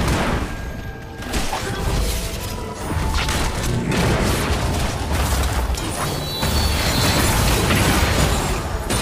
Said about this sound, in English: Enemy turret destroyed.